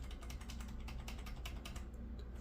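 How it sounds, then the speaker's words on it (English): Rapid irregular clicking of computer keyboard keys being pressed, steady and fairly close, with a low background hum and no voices. "as soon as you press power, hit delete on your keyboard"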